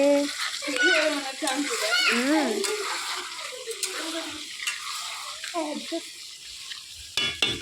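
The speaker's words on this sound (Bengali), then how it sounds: "এই যে এখন হচ্ছে চিকেন লাল লাল চিকেন কষা হচ্ছে" Chicken sautés in a pan for a red kosha curry at an outdoor picnic cook-up, with a steady sizzle and stirring under continuous close talking.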